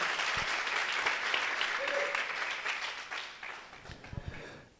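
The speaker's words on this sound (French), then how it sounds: "Can I get a clap for Jesus this Vous morning?" Church congregation applauding for Jesus during a bilingual French-English Sunday morning service, a steady wash of many hands clapping that fades toward the end, with a few louder individual claps standing out.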